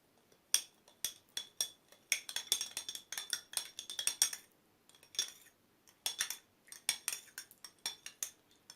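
A spoon or fork whisks a salad dressing with salt and turmeric in a bowl for an orange-dressed green salad, producing a quick series of bright metallic clinks and taps in bursts, close and clear with no talk.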